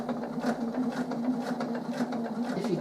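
A sewing machine stitches a fabric pen holder bookmark, a steady rapid mechanical whirring hum running continuously across, moderately close and even in speed.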